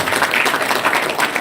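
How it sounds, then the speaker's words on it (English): A brief round of applause rises from the audience at a Mohiniyattam dance performance, a close, dense patter of clapping lasting just over a second. "Round of applause for that"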